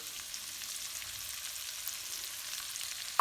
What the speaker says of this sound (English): I left all the bacon grease in the pan, just gonna let us kind of fry these potatoes up